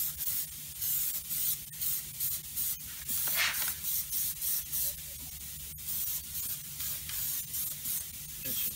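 Repeated short hissing bursts of a Plasti Dip aerosol spray can coating wheels, a dozen or so quick sprays in steady rhythm, close by with no talking.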